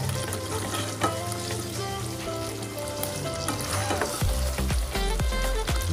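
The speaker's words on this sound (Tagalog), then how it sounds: "Ayan, haluin lang ng haluin" Thick spaghetti sauce bubbles and sizzles in a pan while it is stirred steadily, with a constant close sizzle and low thumping scrapes of the spoon growing heavier near the end, no talking.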